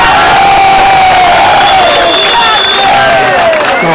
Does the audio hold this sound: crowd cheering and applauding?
yes